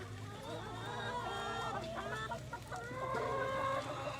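Chickens cluck and murmur close by in a busy farmyard, with a rooster's voice among them and faint talk in the background.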